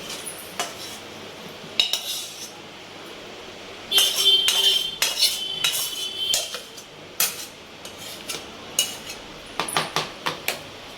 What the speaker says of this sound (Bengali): আমার আলু চচ্চড়িটা রেডি, এইবারে ঢেলে নিচ্ছি।